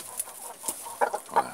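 A giant rooster with an injured leg gives a few soft, close clucks in short spaced bursts, with no talk over them.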